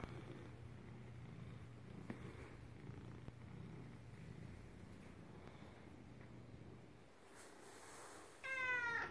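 A cat purrs steadily up close for several seconds, with a soft low rumble, then lets out one clear meow near the end.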